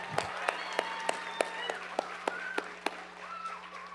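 Clapping rings out at a Braille Challenge award ceremony as a slow, sparse series of sharp handclaps in a steady rhythm, fairly close, with faint voices underneath.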